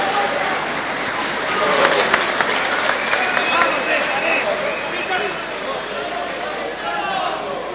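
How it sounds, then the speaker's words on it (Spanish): A full boxing stadium applauds the undefeated national super lightweight champion, a broad, steady roar of clapping and crowd noise that swells slightly midway and holds for several seconds. "El aplauso de todo un estadio para él."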